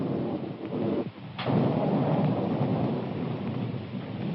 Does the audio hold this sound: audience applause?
no